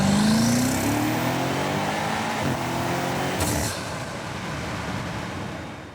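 A 2020 BMW M8 convertible engine rises steadily in pitch, loud and close, then holds a strong steady roar before easing slightly, with no talk over it.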